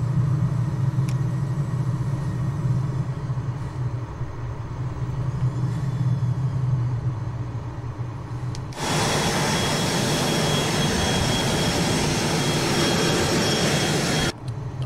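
Cessna Citation Mustang business jet coming in to land in Microsoft Flight Simulator, a steady droning cockpit engine hum that abruptly swells into a loud, broad roaring rush partway through, sustained and unbroken.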